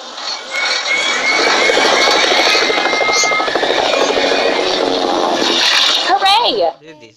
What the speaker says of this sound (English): Helicopter rescue.